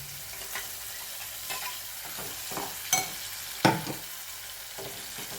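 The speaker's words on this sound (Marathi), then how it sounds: "आता आपण हे वाटण करून घेतलेले ते आपण ह्याच्यामध्ये टाकूया, हिरव्या मिरचीचं" Green chili paste stirred into tomatoes sautéing in a pan, with soft scraping spoon strokes and a light sizzle; a couple of sharper clinks stand out near the end.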